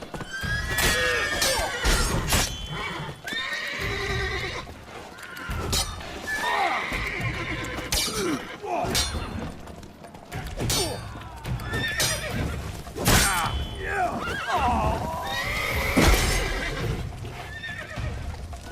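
Horses in The Witcher 3: Blood and Wine, with repeated loud whinnies and neighs over busy clip-clopping hooves during a castle assault, layered with other game action.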